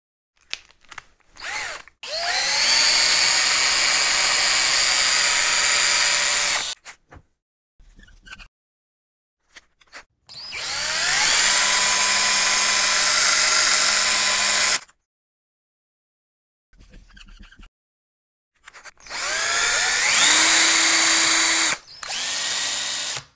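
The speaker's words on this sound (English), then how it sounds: "let me hook these up to a drill so we can speed it up" A power drill whirs in three long bursts, each spinning up with a rising whine and holding steady before cutting off, separated by short clicks and silence.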